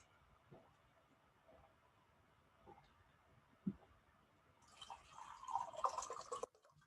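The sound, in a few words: water poured into a cup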